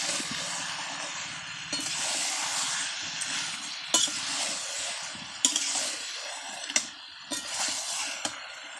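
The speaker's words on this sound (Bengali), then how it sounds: "এক মিনিট অন্তর এইভাবে নাড়াচাড়া করে নিতে হবে, তা না হলে তলায় লেগে যাওয়ার সম্ভাবনা আছে" Chicken and spices are stirred in a pan in repeated bursts of close sizzling and scraping, punctuated by sharp metallic clinks of the spoon against the pan, with short quieter gaps between strokes.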